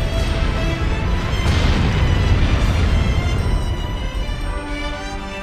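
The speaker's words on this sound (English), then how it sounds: "It stopped. The explosions are over." Continuous booming explosions from the Disgaea 4 video game form a dense, loud, rumbling wall of blasts that swells and eases slightly across the stretch.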